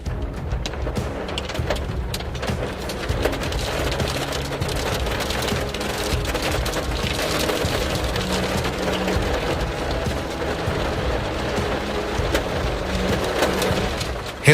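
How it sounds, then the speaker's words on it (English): Hailstones the size of tangerines pound down on a small town during a violent hailstorm, a dense, steady roar of impacts drumming on surfaces without pause, loud and unbroken from start to finish. "Hailstones the size of tangerines are pounding down on our small town."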